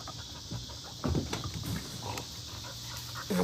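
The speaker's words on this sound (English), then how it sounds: "Then we got big dogs now." Big dogs panting nearby, a steady rhythmic breathy huffing over quiet background noise, with a couple of louder bursts of movement.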